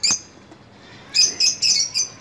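Lovebirds, a small parrot species kept as pets, give a sharp chirp, then four quick bright chirps in close succession after a short pause, near and clear with no talking.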